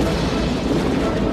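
A film cannon shot fired at a fleeing train bursts into a loud, sustained explosive boom that rumbles for over a second before cutting off abruptly, with no voices.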